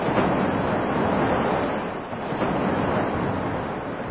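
Waves pound the shore of Lake Tanganyika, a steady, loud wash of surf with wind rushing across the microphone and no voices.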